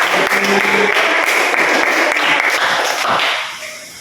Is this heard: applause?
yes